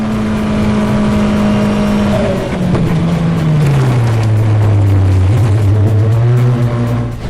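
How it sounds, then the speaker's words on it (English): Race car driven by Dino Zamparelli at over 150 mph in fog, a loud sustained engine drone holding high then dropping in pitch as it eases off, heard alone and close. "When racing driver Dino Zamparelli was driving at over 150 miles per hour"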